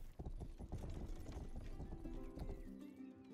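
Galloping hooves from a horse in the video game Rustler, a fast, close, heavy clatter of hoofbeats, joined near the end by a whinny.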